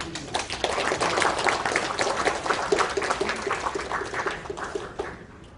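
Audience applause fills a National Assembly forum hall in Seoul as the lawmaker hosting a carbon-neutrality debate is welcomed; dense, steady clapping from a sizable crowd holds for several seconds before tapering slightly.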